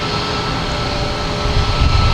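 A JetBlue Airbus A220 arriving from Fort Lauderdale at Boston Logan Airport gives a loud, broad roar of jet engines and rushing air close by, swelling with deep rumble toward the end.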